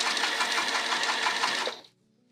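A sewing machine stitching a seam while sewing from a pattern, a steady rapid mechanical whir of close stitches for under two seconds, then stopping abruptly into quiet.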